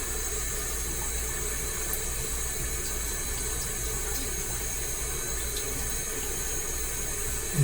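A tap runs steadily as water is splashed onto a face before a shave with a razor, a constant hiss of flowing water alone with no talking.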